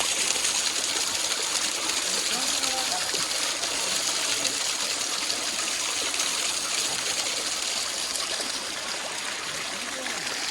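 Water rushes at Arabi waterfall in Udupi, a dense, even roar that holds nearly constant and slackens only slightly toward the end, with no voices standing out.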